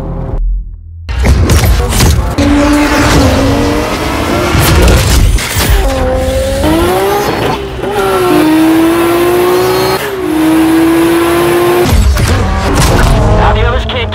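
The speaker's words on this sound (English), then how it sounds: "Suspect is in a Nissan Skyline." A Nissan Skyline R34 GTR in a driving video game, with a loud, close engine revving and shifting through rising pitch sweeps, punctuated by booms and tire noise while a voice speaks over it.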